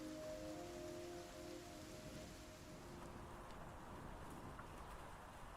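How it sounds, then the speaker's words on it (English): Steady rain in a block-building video game, muffled as if heard from indoors, a soft continuous wash at low level with no voices. "They have a different audio asset for when you're indoors during the rain."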